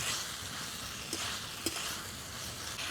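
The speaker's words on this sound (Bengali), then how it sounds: "যেহেতু সব কিছু কষিয়ে রান্না করছি" Water spinach and mustard being sautéed and stirred in a pan, with a steady close sizzle and scraping stir strokes, a couple of sharper clinks of the utensil against the pan.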